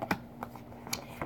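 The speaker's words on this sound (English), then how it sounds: "If my shuffling irritates you and it's just too much for you, fast forward." Tarot cards shuffled by hand in a quiet room, giving a few quick papery riffles and taps in irregular bursts, close and fairly soft.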